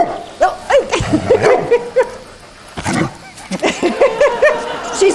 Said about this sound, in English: I'm getting a great tape of a dog trying to get somebody to play.